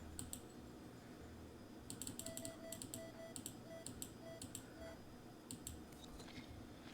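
Keypad buttons pressed in the video game Vincent, a series of short sharp clicks in quick bursts with brief pauses, alongside soft tonal beeps over a low background hum.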